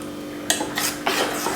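A spoon mixing thick appam batter thinned with a little water in a bowl, three or four sharp scraping clinks of metal against the vessel, close and clear with no talking.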